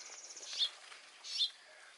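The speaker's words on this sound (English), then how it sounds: "The birds are getting upset." Birds in a backyard cherry tree give two short, sharp chirping calls about a second apart, faint and distant over a soft, steady background hiss.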